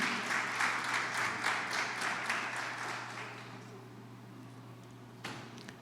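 A church congregation applauds during a Sunday sermon, a dense patter of many hands that is moderately loud at first, then thins and fades to near quiet, with one last sharp clap near the end.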